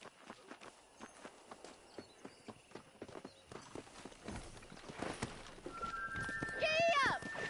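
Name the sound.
horse galloping, hooves clip-clopping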